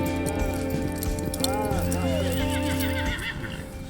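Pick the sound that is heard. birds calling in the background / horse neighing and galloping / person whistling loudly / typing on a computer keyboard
horse neighing and galloping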